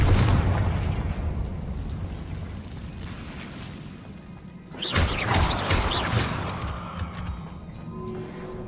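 A Confringo fire spell explodes in Hogwarts Legacy: a low rumbling game ambience gives way midway to a sudden loud blast that rolls and crackles away over several seconds.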